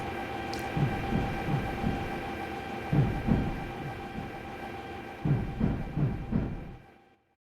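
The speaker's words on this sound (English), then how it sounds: "watch the train pull away as it heads off toward the depot and its turnaround and starting the line over again" A Minecraft MTR mod train pulls away from the platform toward the depot: rhythmic wheel clacks in groups over a steady rumble and hum, fading to silence at the end.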